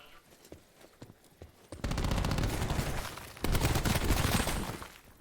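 Gunfire in an esports shooter video game: after a quieter opening, loud sustained bursts of rapid shots roll on in two dense volleys.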